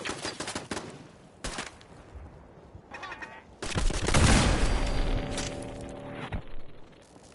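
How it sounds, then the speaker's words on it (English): Fallout 4 combat with rapid gunfire cracking in bursts, sharp shots early and a heavier, louder volley in the middle amid other game noise. "Where is something shooting me from?"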